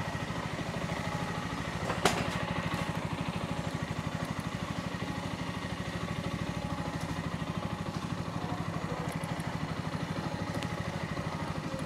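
A Brixton BX 250 Glanville 250cc motorcycle engine runs steadily and smoothly at low revs, a soft continuous thrum heard close with faint traffic and a brief click in the background.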